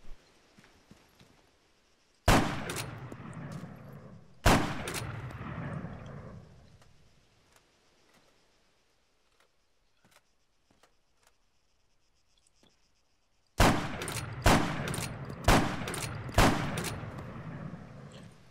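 .50 caliber rifle shots fired at a thick wall in the military shooter ArmA 3: two sharp, loud cracks with decaying tails, a quiet stretch, then a rapid burst of four more shots close together.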